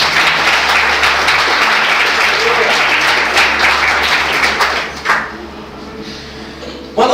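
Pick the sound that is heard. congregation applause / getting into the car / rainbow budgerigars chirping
congregation applause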